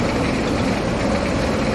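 A tractor engine idling steadily in Farming Simulator 22, a continuous close low rumble with an even, unchanging drone and no talking.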